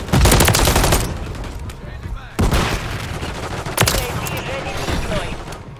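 Heavy bursts of automatic gunfire in Modern Warfare III multiplayer Domination on the Rust map, loud and close, with sharp cracks and a few distant booms.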